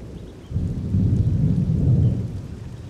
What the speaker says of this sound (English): it's starting to rain pretty hard out here